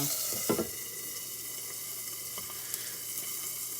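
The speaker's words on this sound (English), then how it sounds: "I could throw my little piece of bacon in there that fell off the bottom" Steady close sizzle of bacon frying in a pan beside salmon, a continuous hiss with a couple of brief clunks from the pan early on.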